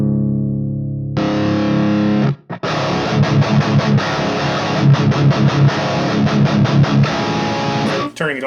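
An electric guitar plays through the Apex Revenant preamp, shifting from a clean held tone into heavy saturated distortion with chugging, rhythmic palm-muted chords. The playing is loud and close, with a brief gap partway through, and no talking is heard.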